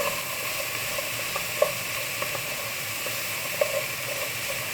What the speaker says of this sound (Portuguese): Meu fogo tá alto, então acaba refogando bem rápido.